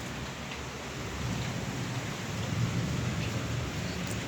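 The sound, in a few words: heavy rain with thunder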